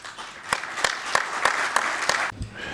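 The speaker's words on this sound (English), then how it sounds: "d'applaudir encore une fois Zahra venant du Tchad" Delegates at the 46th Ordinary Session of the African Committee of Experts on the Rights and Welfare of the Child applaud Zahra from Chad: a hall of clapping with a few sharp, evenly spaced louder claps, fading out at the end.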